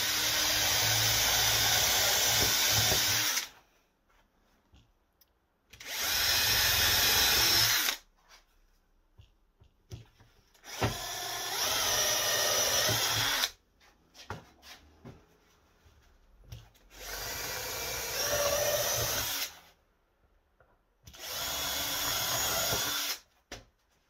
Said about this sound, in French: je vous conseille de pré-percer, faire un avant-trou avant de visser